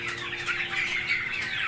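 Young Goliath broiler chickens calling on a farm, a dense chorus of high chirping and clucking cries that overlap continuously at close range, with some wing flapping.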